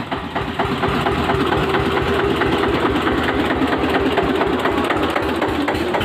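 A loaded tractor's engine runs steadily and fairly loud, a continuous chugging drone with a fast, even mechanical rhythm throughout.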